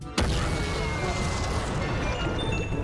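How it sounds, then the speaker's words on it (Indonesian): A missile bomb goes off in a SpongeBob cartoon scene with a sudden loud blast. Dense, sustained crashing rumble follows and fills the whole clip. "membuat bom rudal itu seketika langsung meledak hingga menghancurkan seisi tempat"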